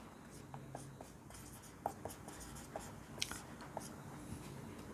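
Faint scratchy writing strokes on a board, a soft steady scraping broken by light taps, with quiet room noise behind it.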